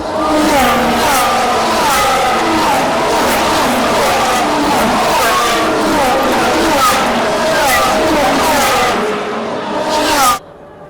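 Formula 1 cars launching at a race start, a dense roaring blur of screaming engines and tyre squeal passing close and loud, heard from the grandstand before cutting off abruptly near the end.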